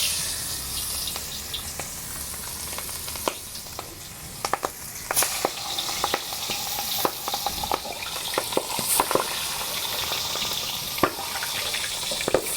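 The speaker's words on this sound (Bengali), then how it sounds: "তেল গরম হয়ে গেছে, এবার মাছগুলো ভেজে নিচ্ছি।" Ritha fish frying in hot oil in a pan, a continuous loud sizzle punctuated by sharp crackles and pops that grow denser as it goes on, close up with no talking.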